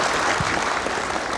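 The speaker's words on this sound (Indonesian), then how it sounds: "Kita kasih tepuk tangan dulu untuk teman-teman UIN." Audience applause for students of FISIP UIN Syarif Hidayatullah at a televised political forum, a dense continuous burst of clapping from a crowd, steady and fairly loud throughout.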